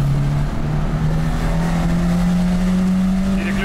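Nissan Skyline KPC10 Hakosuka with a carbureted engine pulling away after a gear change, a loud, close, steady engine drone that slowly rises in pitch.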